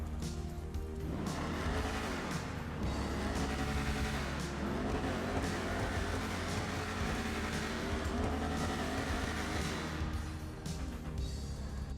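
Dominator ASP muscle car in GTA Online, its engine revving loud and continuously for twelve seconds as it accelerates and shifts, with tire squeal at times and no talking.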